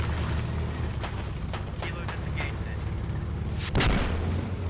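A heavy gunshot fires at a BMP armored vehicle in the video game Squad, a sharp loud boom near the end over a steady rumble of battlefield noise, with fainter distant reports earlier.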